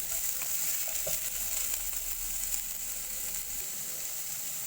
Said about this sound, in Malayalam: കയ്പ്പയ്ക്ക് ഒന്ന് വെളിച്ചെണ്ണയിൽ ഇട്ടിട്ട് ഒന്ന് വഴറ്റി കിട്ടാം